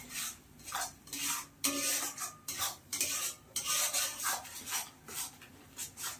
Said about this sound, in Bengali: এটা শুধু আমি এখন নাড়তে থাকবো